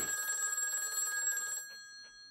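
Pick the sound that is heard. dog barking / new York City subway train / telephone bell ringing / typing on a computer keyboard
telephone bell ringing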